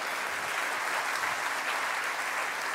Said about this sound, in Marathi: टाळ्या दिल्या पाहिजेत या सगळ्या त्यांच्या.